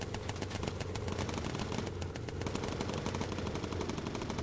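Rapid, continuous machine gun fire from the gunners aboard a bomber in Bomber Crew, a dense unbroken rattle of shots running loud and steady throughout with no talking.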